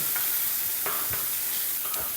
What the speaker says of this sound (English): once that pan's up to temperature, those lardons can go in.